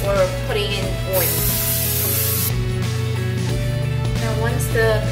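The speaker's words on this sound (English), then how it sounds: "you want to just start spraying your pan or putting in oil." A loud, steady hiss of oil sprayed into a pan lasting about a second, followed by continuous sizzling and frying noise, while cooking pork dumplings.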